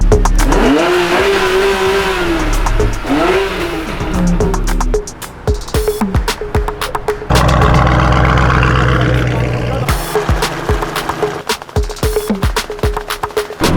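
A McLaren sports car engine revs and accelerates at a BalticRace car event, loud and close, with rising and falling engine tones, sharp bursts and crackles, while people talk nearby.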